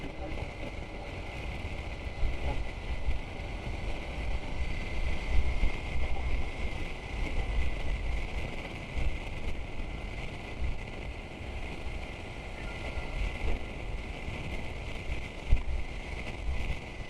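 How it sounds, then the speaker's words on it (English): Steady wind buffets and rushes outdoors near passing road traffic, a continuous broadband roar with small gusty swells and no voices. "Wind, not me, the environment."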